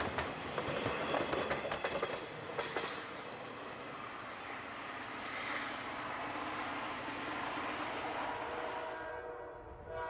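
A freight train hauled by an Alco diesel locomotive rolls past on Delaware & Hudson track, a broad steady rumble with clattering wheels and a faint horn near the start, heard alone without talk.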